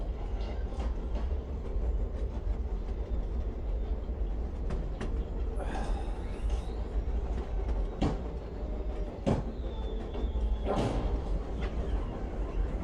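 Trains in the shooter game Wolfenstein rumble steadily with wheel clatter, punctuated by sharp metallic bangs and screeches, a constant rolling roar throughout.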